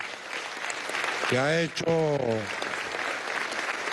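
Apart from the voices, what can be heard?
applause in the Venezuelan National Assembly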